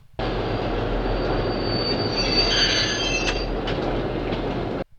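Train rumbling along the track in a 1967 film with high-pitched wheel squeal, steady and loud throughout, fading out abruptly at the end.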